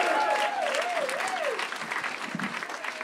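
Audience applause for comedian Alan Smith at a stand-up comedy club, steady dense clapping that holds throughout and eases slightly toward the end, with a thin whistle rising and wavering early on.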